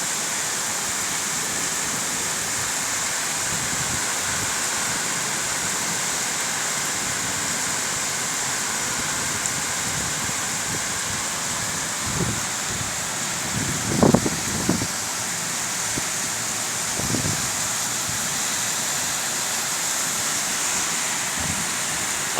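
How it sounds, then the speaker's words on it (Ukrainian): Heavy rain pours down steadily as a constant hissing wash, with a few faint knocks and thumps rising briefly out of it near the middle. "Ось так, як шумить, шумить дощ."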